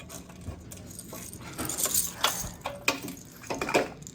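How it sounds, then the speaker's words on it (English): Small lipless rattler fishing lures clatter and jingle as they are handled, with bursts of bright metallic rattling rising and falling close by. "I like the little rattles"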